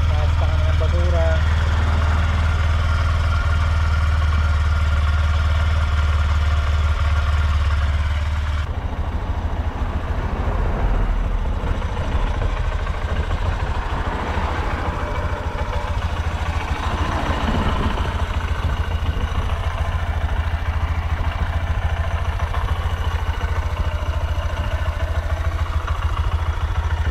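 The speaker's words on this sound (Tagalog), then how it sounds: "naka-warm up na yung makina natin" A motorcycle engine idles while warming up in a parking area, a steady low rumble with a faint clatter running throughout, while someone talks over it.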